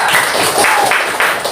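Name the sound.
applause for group 3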